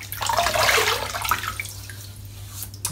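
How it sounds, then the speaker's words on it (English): Water splashed and scooped onto a face before shaving lather, a short burst of wet splashing that tapers off, close and fairly loud over a low steady hum, no talking. "So let's wet the face."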